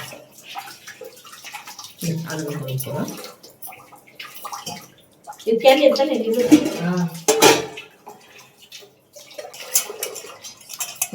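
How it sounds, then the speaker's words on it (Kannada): Tamarind is rinsed in water in a vessel, with bursts of sloshing and splashing water and clinking against the container, separated by quieter moments. "ಹುಣಸೆಹಣ್ಣು ತೊಳೆದ್ಬಿಟ್ಟು"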